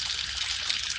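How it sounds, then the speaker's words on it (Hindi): A bathroom water tap is turned on and runs in a steady, constant stream of water, loud and close, with no voices. "बाथरूम से नल के खुलने की आवाज आने लगी।"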